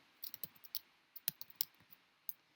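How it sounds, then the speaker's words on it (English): A computer keyboard is typed on in quick, irregular, faint clicks that come in short clusters with small pauses, nearby and without talk. "So I'm just going to go ahead and keep typing here."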